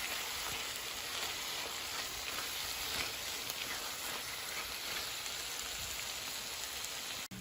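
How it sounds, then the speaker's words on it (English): Marinara sauce simmers with pasta in a pot, a dense, even bubbling hiss that stays steady and close throughout with no talking. "I'm just going to mix that up and let that simmer for another couple minutes"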